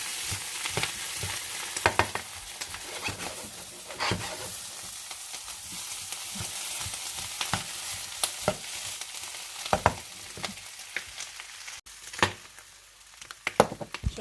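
Tyrolean groestl frying in a pan while being stirred, a constant close sizzle punctuated by repeated scraping and clacking strokes of the utensil at irregular intervals, with no talking.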